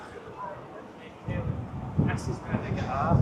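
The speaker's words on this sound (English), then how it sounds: "But that's still quite windy." Gusty wind buffets the microphone in low rumbling bursts that build toward the end, with a faint voice in the background.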